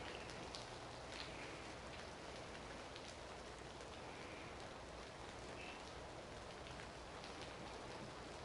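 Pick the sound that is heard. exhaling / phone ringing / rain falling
rain falling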